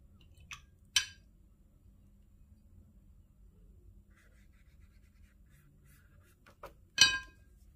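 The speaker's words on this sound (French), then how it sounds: "les bruits de papier, les bruits de gling-gling dans le pot d'eau, qui parfois est très fort d'ailleurs" Two sharp clinks of a watercolour brush against a water pot, one near the start and one near the end, with faint paper rustling in between.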